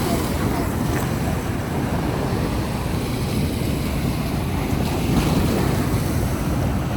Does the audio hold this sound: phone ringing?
no